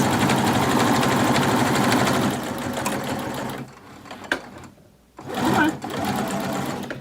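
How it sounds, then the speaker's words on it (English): A sewing machine stitching down the nose piece of a cloth face mask: a close, rapid, steady mechanical whir that stops partway through, followed by quieter handling and then a short burst of stitching. "I'm going to sew the nose piece down."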